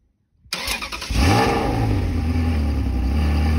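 A manual Ferrari 360 Modena's engine cranks and catches after a moment of silence. It rises into a loud, close rev, then settles into a steady, strong idle with no talking.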